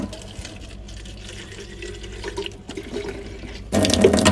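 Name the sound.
water being filled into a bottle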